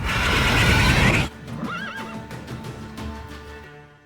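A horse in The Witcher 3: Wild Hunt gives one loud, close whinny with a rising and falling pitch, following a burst of broadband noise and light hoof clatter.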